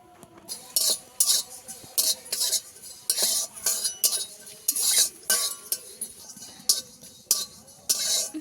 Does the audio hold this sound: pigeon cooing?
no